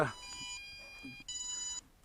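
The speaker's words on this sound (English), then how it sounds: "You can hear that the drone is beeping as well." High electronic beeps in two bursts, a short tone followed by a longer steady one, fairly faint with slight handling noise between them.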